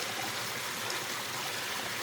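A small mountain spring trickles steadily in the Cambrian Mountains of Wales, a soft, continuous watery hiss at close range with no voices.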